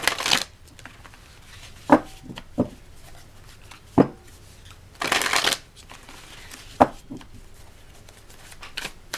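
A deck of tarot cards being shuffled in short, crisp bursts, with a longer riffle in the middle and a few sharp taps between, close and clear in a quiet room.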